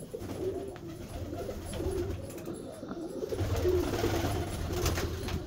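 Pigeons in a loft with breeding pairs sitting on eggs coo in soft, continuous murmuring calls, close by, with faint background rustle.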